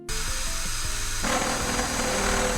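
A step drill bores a hole in a post-apocalyptic cyberdeck case, a close, steady power-tool whine whose tone roughens partway through as the bit bites deeper, with no talking.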